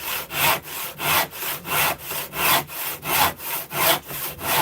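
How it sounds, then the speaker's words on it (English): A hand saw cuts through wood in about ten steady back-and-forth strokes, a close, rhythmic rasping with no talking. "if you get your saw set nicely in the wood"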